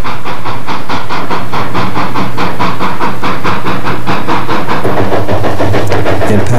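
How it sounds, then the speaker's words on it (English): An old narrow gauge freight train in Colorado crosses the Animas River, a loud continuous rumble with rhythmic clattering of wheels on rail joints throughout. "the train crosses the Animas River"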